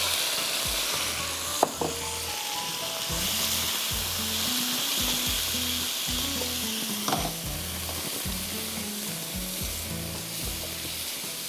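Marinated meat for Tom Kha Kai soup sizzles steadily as it fries over full heat, a loud continuous crackle close by with occasional stirring knocks and no speech.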